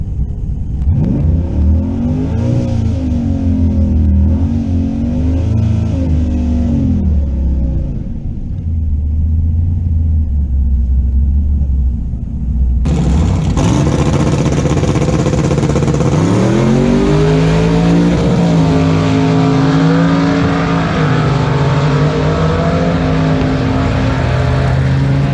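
Car at a drag track, engine revving hard and rising in pitch through repeated gear pulls, first a muffled idle-and-rev phase then a louder, brighter full-throttle run close by.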